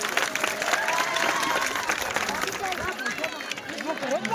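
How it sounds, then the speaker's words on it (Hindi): An audience at a school function applauds a student and the student's parents, a steady wash of many hands clapping with crowd murmur and voices mixed in. "प्रशांत कैरोला और प्रशांत कैरोला के पेरेंट्सों के लिए जोरदार तालियां होनी चाहिए भाई"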